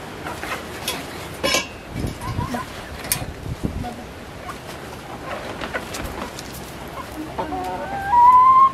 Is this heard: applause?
no